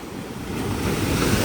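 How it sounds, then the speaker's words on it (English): Big ocean waves break and surge along a rocky shore off Cyprus, a steady loud roar of surf with wind buffeting the microphone, swelling slightly toward the end. "These waves are getting bigger and bigger as I'm trying to come back"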